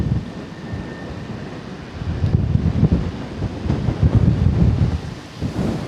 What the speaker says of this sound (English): Yes, the wind may be strong.